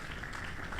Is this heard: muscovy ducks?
no